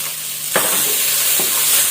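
Sliced cucumber sizzles and hisses in a hot pan as it is stir-fried, with a steady frying crackle and two brief clanks of the spatula against the pan.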